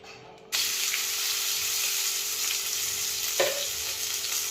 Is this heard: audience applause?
no